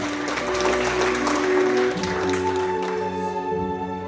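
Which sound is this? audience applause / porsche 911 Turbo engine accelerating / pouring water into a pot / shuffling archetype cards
audience applause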